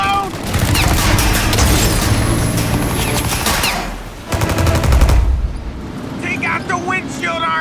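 Dense gunfire in Mafia Definitive Edition, rapid loud bursts and volleys pounding almost without pause, dropping briefly before another heavy barrage, with voices shouting among the shots.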